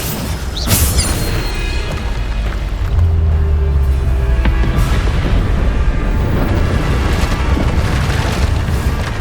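Magical Bombarda blasts from Hogwarts Legacy: a sharp explosive boom near the start, then a sustained rumbling, crashing barrage of game combat effects that stays loud throughout with no speech.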